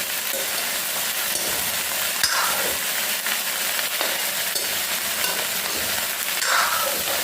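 Vegetables frying in a pan, a loud continuous broadband sizzle that stays steady throughout, close up with no voices.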